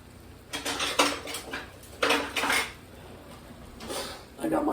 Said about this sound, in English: So I'm throwing in my little pancetta, or it's guanciale actually.